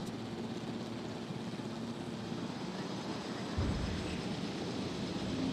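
Helicopter in the Jurassic World Evolution video game, a steady rotor and engine drone that holds at a constant level throughout, growing slightly louder near the end.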